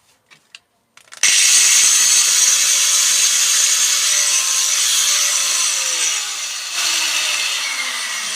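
An angle grinder cuts into the metal casing of a microwave oven, starting abruptly after a few faint knocks and holding a loud, steady high-pitched shriek for the rest of the stretch, with a slight dip and rise near the end.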